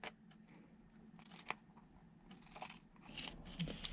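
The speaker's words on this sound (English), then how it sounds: "Then I'm going to cut along that seam." Scissors snip through a folded sheet of paper along its seam, a few quiet close cuts with soft rustling of paper between them, growing slightly busier toward the end.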